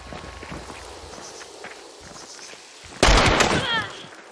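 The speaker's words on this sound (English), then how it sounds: "These are footsteps you can rely on." Footsteps crunching in Hunt: Showdown, a run of soft uneven steps at moderate distance, then a sudden loud burst like a gunshot or impact near the end, with no talk.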